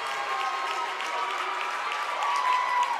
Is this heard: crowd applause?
yes